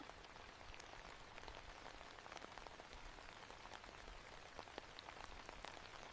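Steady rain falls on surfaces, a dense even patter with scattered distinct drops throughout, soft and continuous with no voices.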